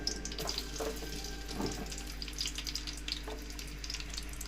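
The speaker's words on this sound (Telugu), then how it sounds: "సరిపడినంత నూనె పోసుకొని ముందుగానే కట్ చేసి పెట్టుకున్న ఉల్లిపాయలు అందులో వేసుకోవాలి." Onions frying in oil for a chappala fish curry, a continuous watery hiss and crackle with scattered small pops and a low steady hum underneath.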